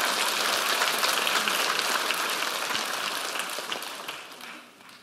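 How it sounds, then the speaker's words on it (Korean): Congregation applause in a church during a Sunday evening service, a dense wash of many hands clapping close and steady, fading gradually toward the end. "그 부부 한 박수 해줍시다."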